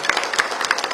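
A crowd claps loudly at a political party gathering as new members join: dense, continuous hand-clapping, close and energetic, with sharp individual claps popping out of the wash for the full second.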